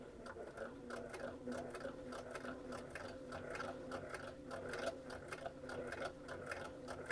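A sewing machine runs steadily, stitching with a fast, even mechanical chatter heard up close, a continuous rhythmic patter without pause.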